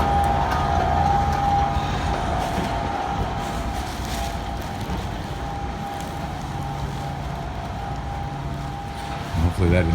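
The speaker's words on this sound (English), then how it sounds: "there goes the train" Rumbling rail noise from the PHX Sky Train passing at an airport station, a steady drone with a faint high tone running throughout, close and continuous for the whole stretch.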